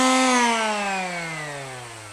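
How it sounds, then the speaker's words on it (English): Electric sander on a 3D-printed R2-D2 dome, a loud close motor whine that drops steadily in pitch as it spins down, no talk. "So you see there's still a few spots here that I missed with the sander."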